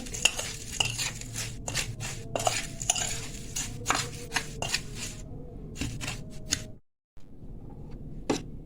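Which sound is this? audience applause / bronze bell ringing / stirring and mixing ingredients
stirring and mixing ingredients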